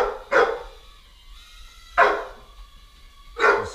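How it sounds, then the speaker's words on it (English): A dog barks three times, loud and close, with roughly a second or more between barks, over a faint steady hum from a micro quadcopter drone. "excuse the dog"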